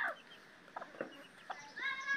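Farmyard hens and their chicks peck at scraps, giving soft, faint clucks and short chirping calls in scattered bursts.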